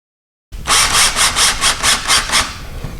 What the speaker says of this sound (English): then we're going to screw it in